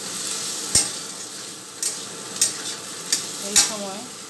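Potatoes frying in a pan for a papaya curry, a steady soft sizzle with a few sharp clinks of a spatula against the pan standing out now and then.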